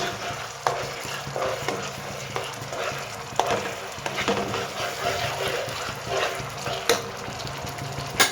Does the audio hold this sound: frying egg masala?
yes